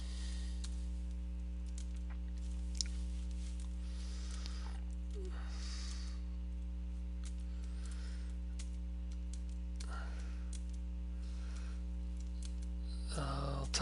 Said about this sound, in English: I'll type in my credentials.